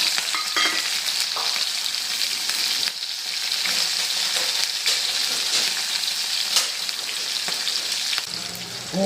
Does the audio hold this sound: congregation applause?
no